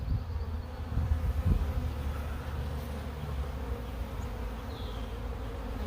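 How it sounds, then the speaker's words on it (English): A honey bee swarm being caught and moved into a hive box gives off a dense, steady, close buzzing hum that holds at an even level throughout, with no voices. "A lot of extra bees."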